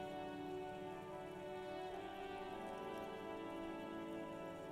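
Steady rainfall from the video game Disco Elysium, a constant soft hiss with a faint tonal hum beneath, quiet and unbroken throughout with no voices.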